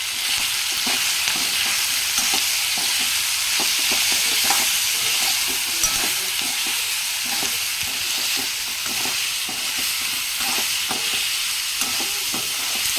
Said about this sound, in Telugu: తొందరగా కలుపుకోవాలి, లేకపోతే అల్లం పేస్ట్ మొత్తం అడుగు మాడిపోద్ది